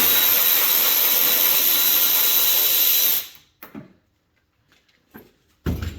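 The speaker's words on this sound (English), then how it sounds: "first thing we're going to do is remove these 4 10mm bolts" A power tool spins loudly and steadily on the 10mm bolts of a Ford Bronco, then cuts off abruptly, followed by faint metallic handling clinks and a brief burst of the tool again at the end.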